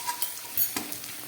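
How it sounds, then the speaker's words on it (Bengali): Onions and capsicum frying in a pan with a little grated ginger, a soft steady sizzle with a few light stirring scrapes and clinks, close and fairly quiet. "পেঁয়াজ আর ক্যাপসিকামটা হাফের বেশি ভাজা হয়ে গেছে"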